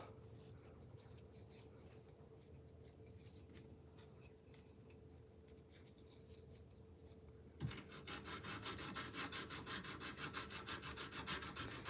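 Sandpaper rubbing along a knife handle during handle shaping, a steady close rasping scrape that grows louder and denser partway through, with no talk.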